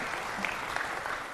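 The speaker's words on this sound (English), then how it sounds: "Muted applause for that." Muted audience applause at a Seattle Town Hall forum with Christopher Hitchens: a brief, soft patter of clapping from a modest crowd, even and unbroken, with no voices over it.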